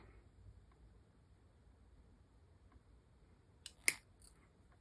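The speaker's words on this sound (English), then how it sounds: "I'm just going to trim the slightest little bit off it." Scissors trim a small piece for an Artesania Latina 1:84 Santisima Trinidad model ship; after near silence comes one crisp, close snip with a faint second cut.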